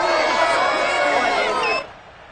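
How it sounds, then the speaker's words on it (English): Loud football stadium crowd at a Bengals vs Steelers game before a two-point conversion, a dense roar of cheering and chatter that drops off sharply near the end. "Listen to this crowd now."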